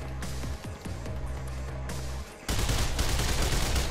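Rapid bursts of gunfire fill a firefight in the first-person parkour game Mirror's Edge, a steady rattle of shots that swells into a louder, denser barrage partway through.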